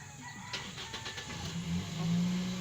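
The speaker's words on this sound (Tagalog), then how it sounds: "Okay, nag-start tayo sa sasakyan natin." A car engine starts during a driving lesson, a short cranking chatter giving way to a steady idle that swells slightly louder toward the end, with no talk over it.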